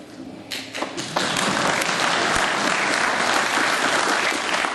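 Audience applause at a political speech: a burst of clapping swells after a few scattered claps and then holds steady and dense, with no talking over it.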